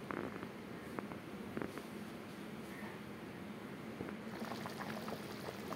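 A vegetarian bean and potato curry boils up in a pot on the stove, a faint, steady bubbling and simmering hiss with no voices.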